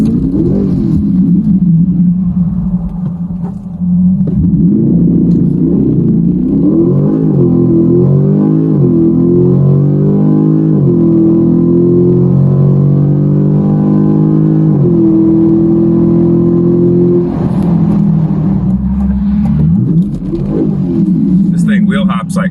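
A C8 Corvette on drag radials launches and accelerates hard down a drag strip, its loud engine rumble climbing steadily in pitch through the run, with wheel hop, while a person talks over it.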